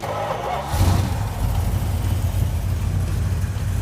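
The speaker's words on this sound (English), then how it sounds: "Okay, hopefully we're gonna fire it up now," A junkyard Plymouth Cuda engine fed from a gas can cranks and catches, then settles into a loud, rough, steady running rumble close by with no talk.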